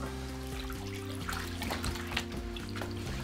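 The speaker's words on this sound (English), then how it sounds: "Now for the body armor, we use the bathtub as well. You just put it in the water," Body armor is soaked in a bathtub full of water, giving soft sloshing and trickling sounds over a low, steady hum, quiet and close.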